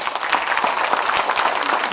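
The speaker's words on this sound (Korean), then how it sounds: "우리 김정호 대표에게 여러분 큰 박수 한번 부탁드리겠습니다" A crowd claps at a Justice Party outdoor joint campaign rally in Incheon, producing a dense, sustained applause of many hands that stays fairly loud and even throughout.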